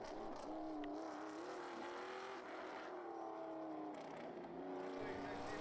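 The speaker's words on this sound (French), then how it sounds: "C'est le cas ici, entre la Porsche 911 de Yann Faury et la Peugeot 504 d'Henri Lettier." A Porsche 911 and a Peugeot 504 rally car overtaking one another, engines droning steadily with shifting pitch as they run close together, loud and continuous, with a voice talking faintly underneath.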